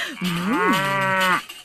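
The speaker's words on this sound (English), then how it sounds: "Cows in the kitchen. Moo, moo, moo." A single sustained cow moo, clear and close, rising and bending in pitch for over a second before trailing off on a farm.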